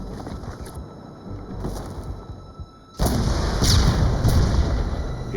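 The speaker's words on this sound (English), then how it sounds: "when they blew that up, it was the largest explosion and most noise I'd ever heard" Marines demolish the final Japanese command bunker on Iwo Jima in World War II, a large blast that erupts with a sudden loud roar and keeps rumbling heavily after a quieter stretch of distant booms.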